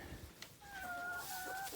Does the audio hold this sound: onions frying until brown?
no